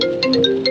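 A phone ringtone chimes inside a car on a foggy mountain road in Uttarakhand, a brief, clear, melodic run of electronic tones, close and alone.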